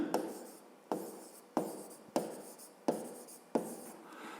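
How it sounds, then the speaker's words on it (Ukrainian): Pen strokes writing out a maths solution on paper, in a series of six or so distinct scratchy bursts at an even pace, close and quiet with no talk. "Ну а зараз записуємо розв'язання. Пишемо."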